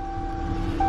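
A 2019 Dodge Charger engine idles quietly and steadily for a brief moment, with a faint, even hum and a slight swell at the end.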